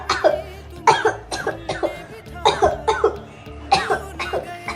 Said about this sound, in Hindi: क्या है, कब से खांस रही हो